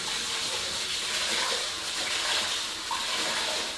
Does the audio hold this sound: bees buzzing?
no